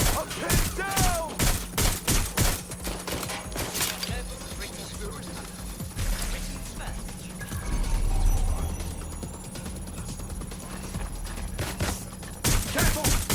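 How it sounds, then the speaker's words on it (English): Gunfire in the video game Watch Dogs: Legion, with dense bursts of shots and thuds over a constant battle din, with in-game voices shouting between them. "Careful! Shot fired!"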